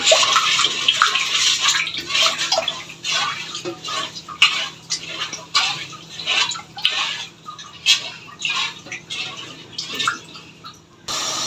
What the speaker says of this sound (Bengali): এই কাপ দিয়ে দুই কাপ জল দিয়ে দিব এক কাপ দুই কাপ